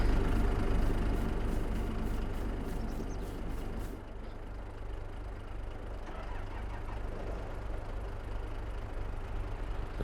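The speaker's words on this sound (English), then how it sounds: "Now what we need to do is move this tractor out of the way." Farming Simulator 22 tractor engine running on a farm, a steady low drone that is louder at first, then settles into a continuous, even rumble with no talking.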